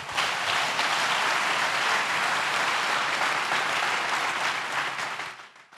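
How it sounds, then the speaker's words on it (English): Steady, loud applause from a church congregation rolls on as a continuous roar of many hands clapping, then drops off sharply at the close. "Clap for Jesus."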